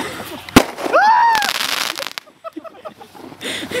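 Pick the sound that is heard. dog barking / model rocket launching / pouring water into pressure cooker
model rocket launching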